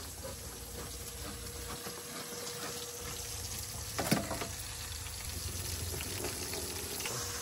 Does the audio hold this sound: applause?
no